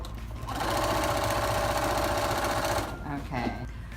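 A sewing machine runs steadily, stitching the side seam of a skirt, a close, even mechanical whir for a few seconds before it stops and someone starts speaking.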